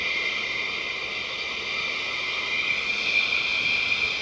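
Steady jet roar from F-35A Lightning II aircraft at RAF Lakenheath, with a strong high whine over a broad rushing hiss, growing slightly louder toward the end.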